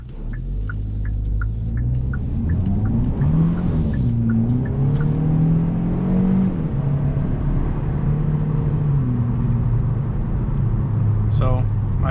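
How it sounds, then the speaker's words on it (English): A 2022 Hyundai Elantra N Line accelerates hard with its wheels spinning, the engine note rising in pitch and then holding as a strong, close rumble from inside the cabin, with a brief squeal near the end. "so I did hear some wheels spinning"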